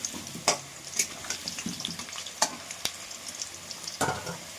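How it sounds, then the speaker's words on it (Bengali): Potatoes frying in hot oil in a home kitchen, a steady crackling sizzle with occasional sharp clinks and stirring scrapes, close and moderately loud. "এদিকে আলুটা প্রায় ভাজা হয়ে গেছে, নামিয়ে দেবো। লাল লাল করে ভাজা হয়ে গেছে।"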